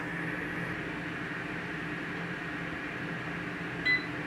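A COSORI TwinFry air fryer cooking steak runs with a steady, faint fan hum and whir, ending with a single short beep near the close.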